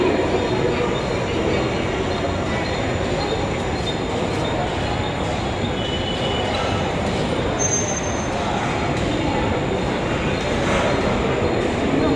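A train rumbles steadily through Bandra railway station, a dense continuous roar of wheels on rails with faint squeals, loud and close, without talk.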